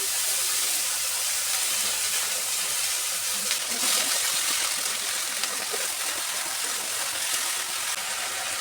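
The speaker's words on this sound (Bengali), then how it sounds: "তেলটা গরম হয়ে গেছে, এবার আমি আগে বেগুনগুলো দিয়ে দেবো।" Eggplant pieces hiss and sizzle steadily in hot oil, a dense, bright frying noise that holds at an even loudness throughout with no talk over it.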